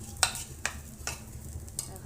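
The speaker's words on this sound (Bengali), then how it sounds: "পোলাও চাল যখন নাড়া দিলে এরকম সরে যাবে তখন বুঝতে হবে যে ভাজা হয়ে গেছে।" Pulao rice is stirred and fried in a pan with a quiet background sizzle. A few sharp scraping strokes of a spatula against the pan punctuate it at irregular intervals.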